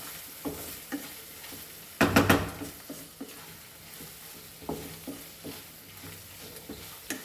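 Masala frying in a pan for squid Maggi, a soft sizzle under repeated scraping stir strokes, with a burst of louder clatter partway through, close and uneven in rhythm.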